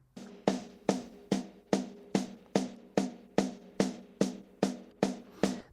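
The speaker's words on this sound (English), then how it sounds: "And the original snare sounds like this." Snare drum isolated from a live concert recording at a show in Mexico, 2008, struck thirteen times in an even, steady beat, each hit sharp and bright with a short ringing decay, heard alone.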